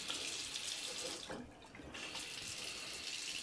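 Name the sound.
water running from newly installed bathroom faucet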